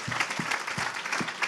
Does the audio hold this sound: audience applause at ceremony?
yes